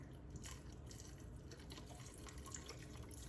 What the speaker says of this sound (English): So I'm going to pour all of this in here.